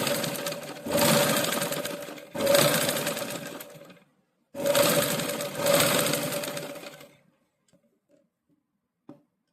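Stitching a saree blouse, a sewing machine runs in four loud bursts of rapid whirring separated by short pauses, then goes quiet apart from a couple of small clicks near the end.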